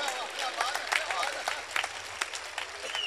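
Audience applause at a poetry recital, welcoming a performer named Shailesh: a dense, steady patter of many hands clapping throughout, with a few sharper individual claps standing out.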